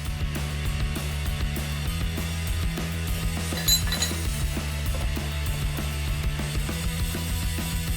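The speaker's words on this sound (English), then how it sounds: "Finishing it off with an M8 tap." An M8 tap cuts threads into a metal part for a prototype motorcycle engine, a steady stream of close metallic clinks and ratcheting scrapes over a constant low machine hum throughout.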